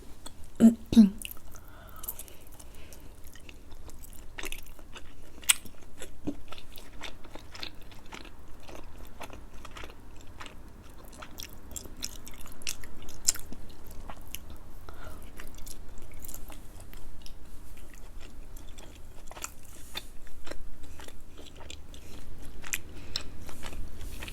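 Close-up chewing of chewy Khmer nom banh chok rice noodles, with soft, wet, repeated bites and squishy mouth clicks at a steady pace, and a quiet voice now and then.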